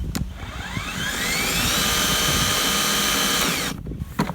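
Ego 56V battery-powered electric lawn mower stuck at a single speed with a broken throttle control, its motor whining up from start to a steady high pitch, then winding down after a few seconds, close and loud.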